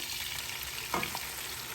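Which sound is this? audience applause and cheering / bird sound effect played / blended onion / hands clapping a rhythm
blended onion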